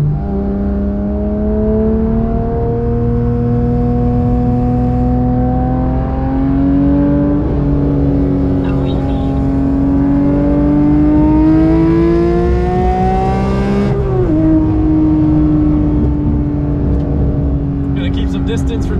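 Porsche 992 GT3 engine in track mode heard from inside, a loud steady drone whose pitch rises and falls with auto-blipped downshifts, including a sharp rev change near the end, with someone talking over it.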